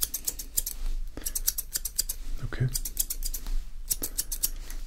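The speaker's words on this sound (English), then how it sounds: "something that only a skilled barber can use with the scissors of this size" Barber's scissors snipping during a professional haircut: rapid bursts of crisp, close metallic snips in clusters, repeating with short pauses, with a brief spoken word in between.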